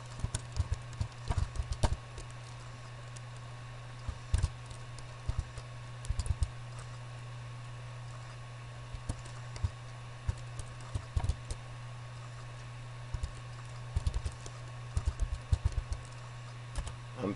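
Keys on a computer keyboard are tapped in scattered bursts while a folder name is typed, faint clicks over a steady electrical hum with no talking.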